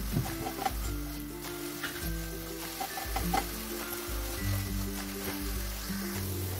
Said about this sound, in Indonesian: Lalu masak terus hingga airnya ini mengering.